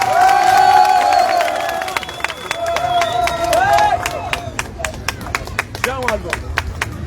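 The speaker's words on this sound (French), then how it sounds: "Vous méritez d'applaudir. Applaudissez pour lui" Crowd at an outdoor political rally in Kaï-Kaï, Mayo-Danay, Cameroon breaks into loud, dense clapping and cheering that tapers into scattered claps, with an amplified announcer's voice and shouts over it.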